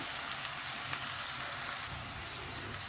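Dried parla fish thokku sautéing in a pan: a steady, even sizzle of frying with faint crackles throughout, close and moderately loud, with no voices.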